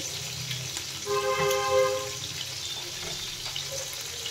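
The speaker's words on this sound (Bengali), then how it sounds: "পেঁয়াজ আর লঙ্কা আর ক্যাপসিকামগুলো আমি তেলের মধ্যে দিয়ে দিচ্ছি" Onions, chillies and capsicum frying in oil, a steady close sizzle with a brief tonal hum partway through and soft stirring sounds.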